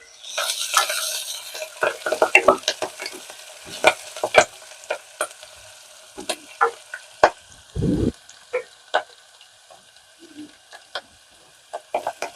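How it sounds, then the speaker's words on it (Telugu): Fenugreek leaves crackling in hot tempering oil for an ivy gourd curry: dense spitting and popping up close at first, then sparser sharp crackles and spoon scrapes against the pan, with one brief dull knock midway. "చూడండి ఎట్లా చిట్పట్లాడుతుందో మెంతాకు"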